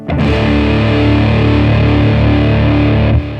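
Cranked electric guitar through an OCD Germanium clone overdrive pedal, one loud saturated chord ringing steadily for about three seconds before it is cut off, with no talking.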